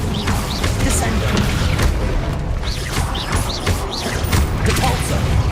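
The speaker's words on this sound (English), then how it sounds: "Descendo." A Descendo spell cast in Hogwarts Legacy on PS5 lands with a dense, loud booming crash amid continuous battle din, with repeated bright whooshes of other spell effects layered on top throughout.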